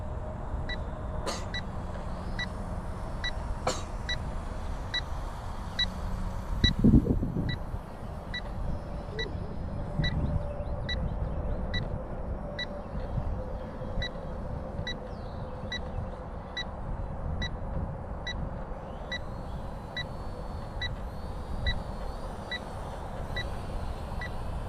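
Thin, regular electronic beeps repeat throughout from a beginner RC plane transmitter with a low battery, set over a steady outdoor wash of noise.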